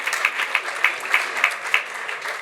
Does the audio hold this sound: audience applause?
yes